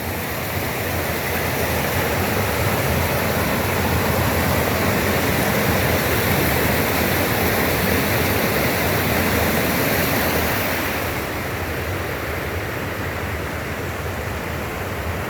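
Mountain valley stream flowing at night at a campground: a loud, close, continuous broadband rush of water that drops slightly in level near the end, with no voices.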